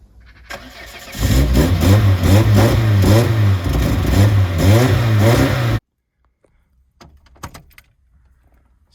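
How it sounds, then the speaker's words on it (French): A 1992 Renault Clio S, left unused for years, cranks briefly then catches and runs with a few loud revs up close before cutting off abruptly, leaving quiet handling noises. "Ça démarre bien pour une voiture qui n'a pas roulé depuis 2020"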